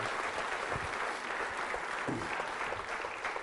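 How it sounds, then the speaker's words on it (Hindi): An audience at a college Valentine's Day quiz show claps steadily in dense, continuous applause that holds through the whole stretch at moderate distance. "तालियां बजाइए सभी के लिए।"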